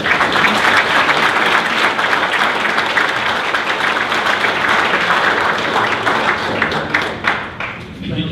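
An audience at a Farm Bill event applauds to welcome Congressman Lucas to the podium, dense sustained clapping from many hands that thins toward the end.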